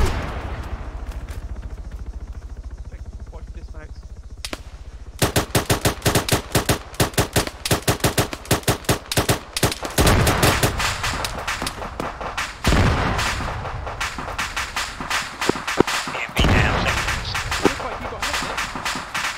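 Rapid bursts of automatic gunfire crack loudly in a firefight with a BMP armoured vehicle, with dense volleys and heavier booming shots over several seconds.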